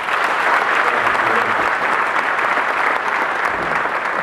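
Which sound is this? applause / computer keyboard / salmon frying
applause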